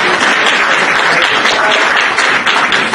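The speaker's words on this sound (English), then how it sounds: "this is a big applause for this man with big dreams, big heart" Dense, loud applause from an audience at a Coinspace event, continuous clapping that fills the whole moment without pause.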